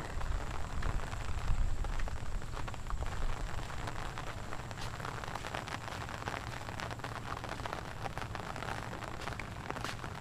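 Rain falling steadily at the Bakkhali seaside, a soft, even patter and hiss on surfaces with scattered louder drops, fairly faint and unbroken throughout.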